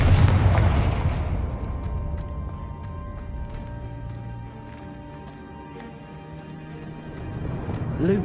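Confringo blasting spell exploding in Hogwarts Legacy, a loud broadband burst at the start whose booming tail decays over several seconds beneath sustained music, with another rising blast at the end.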